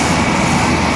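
An F4U Corsair warplane flies by at an air show, its engine and propeller producing a loud, steady roar that fills the moment without any voices.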